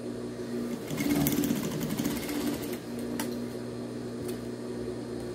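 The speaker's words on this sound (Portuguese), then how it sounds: "passa a costurinha na beiradinha" Sewing machine stitching bias binding along the edge of a fabric baby bib, a steady fast mechanical whirring with rapid needle ticks, close and moderately loud, easing slightly partway through.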